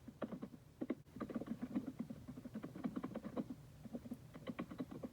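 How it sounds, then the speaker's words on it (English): Rapid, uneven keystrokes on a computer keyboard patter continuously, fairly close but quiet, in dense frantic bursts with a brief pause near the start; no voices. "Joey's frantically typing."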